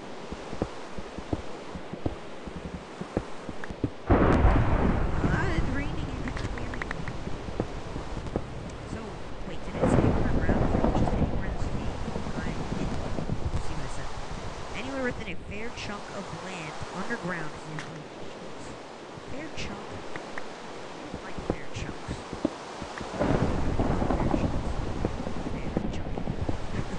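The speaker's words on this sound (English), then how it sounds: "It's raining." Rain falls steadily in Minecraft while thunder rolls in three heavy bursts, the storm noise filling the scene with quieter patter between the crashes.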